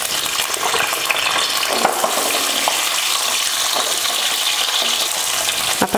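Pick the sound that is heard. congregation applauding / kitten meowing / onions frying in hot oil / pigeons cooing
onions frying in hot oil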